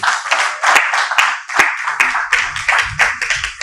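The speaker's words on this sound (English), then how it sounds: "A round of applause, please." Conference audience clapping, a fairly close burst of hand claps with sharp individual slaps standing out, thinning toward the end.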